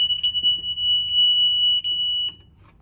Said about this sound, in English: So I'm heading out to the alarm, going to turn it off.